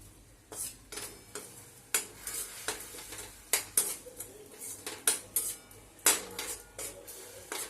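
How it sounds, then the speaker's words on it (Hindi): A spoon scrapes and clinks against a pan while jaggery and a little water are stirred into a thin syrup, in irregular repeated strokes with a faint sizzle underneath, close and fairly quiet. "धीरे धीरे गुड़ को मिलाना है।"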